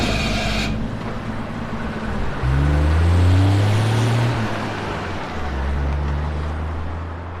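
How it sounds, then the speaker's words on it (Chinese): A car left standing for a long time revs and pulls away as the throttle opens, its engine rising to a loud, steady drone from about two and a half seconds in, then settling into a lower hum. "车放的时间有点长，油门喷不上来，你大点油门"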